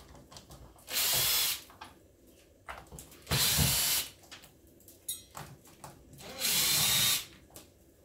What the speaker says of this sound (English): Start off with, undo all the posi head screws.